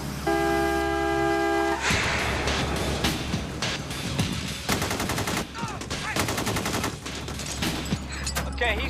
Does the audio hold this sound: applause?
no